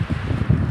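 Steady wind buffeting the microphone, a low rumbling rush that swells and dips throughout, air pouring through an open window of a moving non-air-conditioned vehicle.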